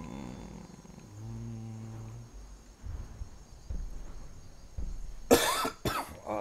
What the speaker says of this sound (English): this cough